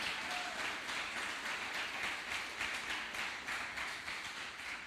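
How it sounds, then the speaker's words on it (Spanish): Church congregation applauding together, a steady dense wash of clapping that holds at an even level throughout with no voices standing out. "Dale ese aplauso al Rey."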